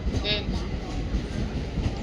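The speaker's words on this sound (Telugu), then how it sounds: "ఇప్పుడే ట్రైన్ కోసం వెయిట్ చేస్తూ ఉన్నా కొంచెం డిస్టర్బ్ అయ్యి ఉండొచ్చు మేడం" A train runs past a station platform with a continuous rumbling clatter of wheels and carriages, loud and close, while someone waits nearby and may be speaking.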